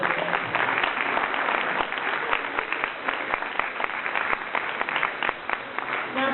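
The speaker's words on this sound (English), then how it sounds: "So I'd like to give them another round of applause." An audience at an award dinner gives another round of applause, a steady, dense patter of many hands that continues for over six seconds with a few sharper claps standing out.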